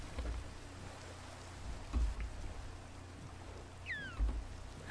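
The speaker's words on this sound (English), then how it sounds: "Oh, it's raining." Steady rain in a video game hisses across the whole clip, with a few low thumps underneath and no one speaking.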